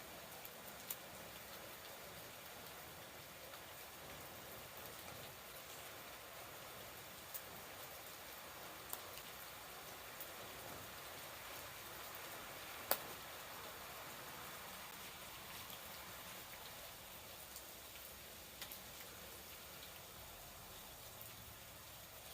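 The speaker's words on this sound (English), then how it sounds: "It's raining really hard." Heavy rain falling on and around a patio, a steady, dense hiss that continues evenly throughout with a few faint ticks and drips and no voices.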